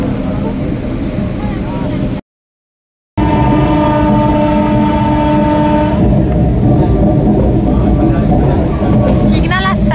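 A crowded passenger train running, with a loud continuous rumble and rattle of the carriages, a brief dropout, then the steady clatter returns under faint chatter.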